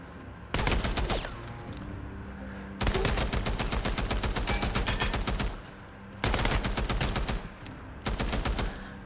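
Enemy gunfire from bulletproof-armored foes in the video game Days Gone: loud bursts of rapid automatic fire, four separate volleys each lasting a second or more, with brief quiet gaps between them.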